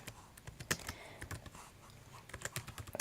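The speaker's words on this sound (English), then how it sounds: "So we're going to type no capital letters" Keys tapped on a computer keyboard in an irregular run of quiet, close clicks, with short pauses between bursts and no talking.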